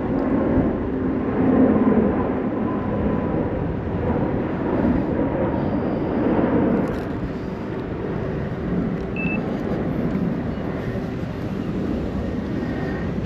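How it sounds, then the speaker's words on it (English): A steady, broad engine roar of a large airplane passing overhead, loud and continuous throughout with no talking. "Oh, we've got a plane there going over, big plane."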